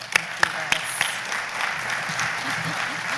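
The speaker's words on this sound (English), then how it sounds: "please give a warm round of applause to my good friend Les Loggins, Rotary Club of South Jacksonville." A few sharp, separate claps ring out in a banquet-style room at a Rotary Club speech competition, then fade into soft room murmur and brief voices as an audience greets a guest.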